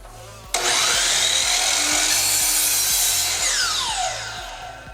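A DeWalt DW716 miter saw cuts through wood in a test cut: the motor snaps on and whines at full speed under steady load, then winds down as the blade spins out, loud and close.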